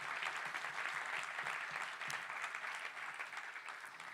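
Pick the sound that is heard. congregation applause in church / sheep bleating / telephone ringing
congregation applause in church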